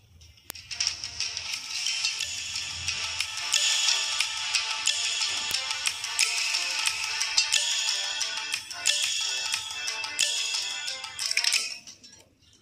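Music played back through white Portronics Conch 204 wired earphones, a bright, steady stream of sound lasting about twelve seconds at moderate level with no talking.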